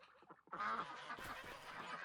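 Geese in the Farming Simulator 25 video game honk and cackle in a noisy cluster, loud and close, a burst of overlapping honks after a quieter start.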